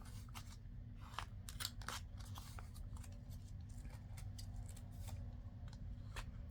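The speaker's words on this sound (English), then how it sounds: "So I think I want to round these corners." Paper corners being rounded for a craft project, a run of short crisp snipping and cutting clicks close by, repeated irregularly over a steady low background hum with no talk.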